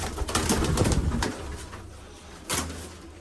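Pigeons coo close by at a rooftop loft, and a burst of wingbeats flutters up at the start as the flock takes off, followed by quieter cooing and another short flap of wings.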